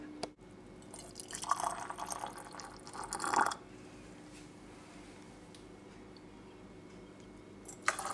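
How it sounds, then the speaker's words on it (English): Hot spiced apple and quince jelly poured from a jug through a funnel into jars, soft close trickling and dripping in two short bursts, then a quiet pause. "I'm going to decant it into the jars using my funnel and jug"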